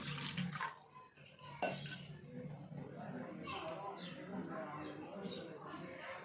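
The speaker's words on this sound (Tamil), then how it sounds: "இந்த ப்ரெட்டை நம்ம கொஞ்சம் தண்ணியில் டிப் பண்ணி எடுத்துக்கலாம்." Water splashes and sloshes briefly in a bowl as bread is dipped in it, with a clink of dishware, while a person talks over it.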